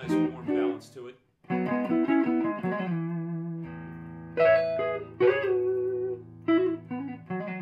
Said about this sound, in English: this neck pickup has got a really nice warm balance to it